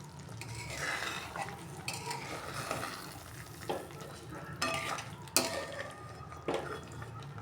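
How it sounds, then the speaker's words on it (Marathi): A spatula stirs paneer, capsicum and onion gravy in a pan over very low gas, giving scraping and clinking strokes with a soft sizzle underneath, close up and without talk. "पुन्हा एकदा आपण मुलतानाच्या साह्यानं असं हलवूया साईडनं"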